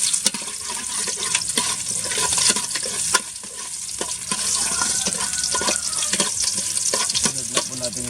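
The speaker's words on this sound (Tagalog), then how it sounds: "Mainit-init na, ilagay na po natin ang sangkap, itong" Ginger hitting hot oil for ginisang monggo, a loud bright sizzle that crackles on steadily with a few stirring scrapes.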